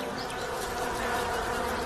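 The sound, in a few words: honeybees buzzing around the hive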